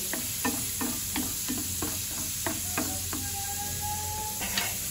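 Cumin seeds frying in hot oil in a pan for a garlic and onion fry, with a steady sizzle under a series of regular, close scraping stirs of a spoon against the pan.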